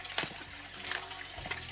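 Water running steadily from the Escapellans public fountain in Sabadell on a hot day, a continuous close splashing flow with a few louder gurgles and no voices.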